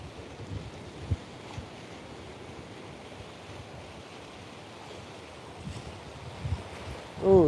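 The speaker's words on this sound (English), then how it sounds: "Oh, this wind's really kicking now." Strong coastal wind at Snapper Rocks rumbles steadily into the microphone over a low surf wash, with a loud gust buffeting the mic at the very end.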